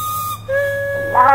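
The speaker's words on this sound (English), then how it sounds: "Noon whistle." A loud, sustained noon steam whistle at a tractor show blows steadily with a hissing edge, its pitch shifting once and swelling louder near the end.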